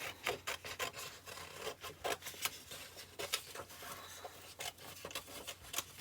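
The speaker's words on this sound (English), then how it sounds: "let me grab my scissors, and I am going to cut out" Scissors snip through paper while cutting out a bunny shape for a handmade fold card, giving quiet, close, irregular rasping cuts and rubs with no talking.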